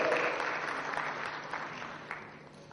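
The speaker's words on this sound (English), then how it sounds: "Do I hear any applause?" Applause from the audience at the IMC-Fusion 2014 event at the Indian Merchants' Chamber, a moderate spread of clapping with a few sharper individual claps, gradually thinning over a couple of seconds.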